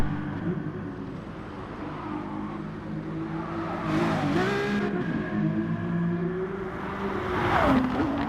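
Race cars including a Ferrari LaFerrari and an Aston howl around a track, engines roaring and revving steadily with surges as cars pass close by, a loud continuous motor drone throughout.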